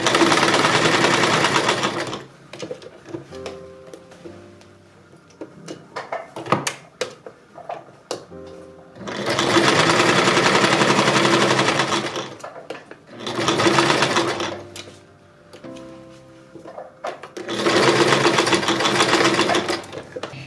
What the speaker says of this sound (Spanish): Ahora cosemos de donde que hemos medido.